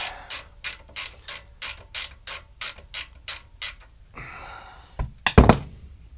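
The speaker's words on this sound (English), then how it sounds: "just by removing this nut that holds the cables in place" A ratchet wrench loosens the nut holding the cables on a 2014 Suzuki V-Strom motorcycle, clicking in a steady run of about a dozen close strokes, followed by a short rustle and a couple of metallic clunks.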